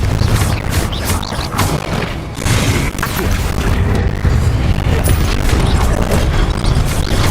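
Confringo blasting spells are cast repeatedly in Hogwarts Legacy, giving a loud, dense barrage of booming explosions and crashing debris that continues without pause.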